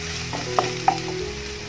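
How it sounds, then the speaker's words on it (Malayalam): Finely chopped onions and green chilli sauté in a hot pan for a soya chunks dish, giving a steady, close sizzle broken by two sharp stirring clacks. "ഇനി അതിലോട്ട് ഞാൻ 2 ചെറിയ സവാള ഇതേപോലെ ചെറിയതായിട്ട് കൊത്തി അരിഞ്ഞത് കേട്ടോ, അത് ചേർത്ത് കൊടുക്കാം. ഇത് നന്നായിട്ടൊന്ന് വഴച്ചെടുക്കാം."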